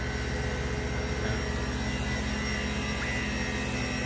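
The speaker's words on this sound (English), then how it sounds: "there's your rotational motor" The rotational motor of an MTI STX-1202 saw runs with a constant, even mechanical hum and whine, steady and unbroken throughout, with no voices.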